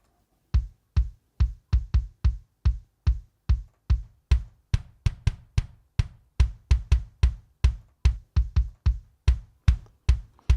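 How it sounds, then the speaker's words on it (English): Two layered kick drum samples in Logic thump in a steady, repeating pattern, about two dozen punchy, deep hits with sharp attacks and quick decays, dry and isolated. "So I actually mixed in 2 different additional kick samples"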